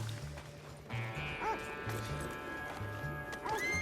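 Horse whinnying with clopping hooves in the Red Dead Redemption 2 video game, over a low rhythmic music bed with game sounds.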